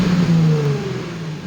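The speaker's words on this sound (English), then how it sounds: "the engine sounds just amazing, so that means no engine problem. It's warm and it's running perfectly." A warm Nissan 350Z engine running with its belts removed, a close mid-range hum that rises briefly in pitch then settles back, steady and fairly loud with no talking.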